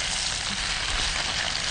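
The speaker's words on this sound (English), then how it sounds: "And it's like 2 cups of like half pound of spinach. I'll be sauteing here." About half a pound of spinach sautés in an oiled pan for a lasagna verde, giving a steady, close, bright sizzle that stays even from start to finish with no voices.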